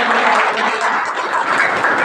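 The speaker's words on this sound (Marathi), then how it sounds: "आपण सर्वांनी तिचा एकदा टाळ्या" Audience applause at the inauguration of a women's health awareness workshop, greeting the seminar organizer: a dense, steady wash of many hands clapping that holds at an even level for about two seconds with no voices on top.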